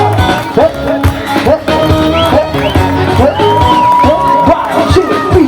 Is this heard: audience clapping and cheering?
yes